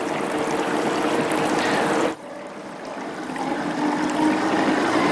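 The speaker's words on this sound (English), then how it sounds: "All right, let's turn the wheel on." A GW25 spiral concentrator wheel runs with water: a steady, loud rush of flowing and splashing water that dips abruptly after about two seconds, then builds back to a full, continuous wash.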